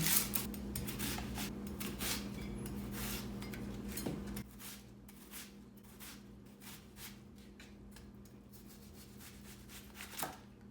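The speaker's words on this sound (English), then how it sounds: "I'm going to chop up a sweet onion." A knife chops a sweet onion on a cutting board with quick, close, sharp repeated taps, busy at first and then sparser, with a faint steady hum underneath.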